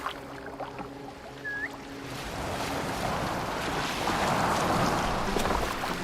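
Boat sailing across open water in Assassin's Creed Valhalla, a steady wash of waves and wind rising and thickening over the seconds, with a faint whistling tone early on and no voices.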